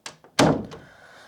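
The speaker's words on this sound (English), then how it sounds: "And then I'm going to shut my door." A room door is swung shut, with two light taps followed by one solid thunk that rings out briefly, close and loud.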